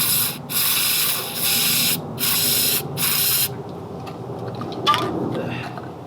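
Brake or carb cleaner sprays onto car parts in a garage in several long, loud hissing bursts with short gaps, followed by quieter handling noise and faint talk.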